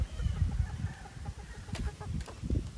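Chickens in a Philippine countryside chicken coop, with soft clucks and low murmuring calls scattered throughout, fairly close and steady, with no talking over them.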